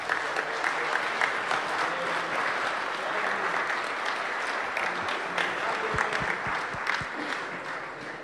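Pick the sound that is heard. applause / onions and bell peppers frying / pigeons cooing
applause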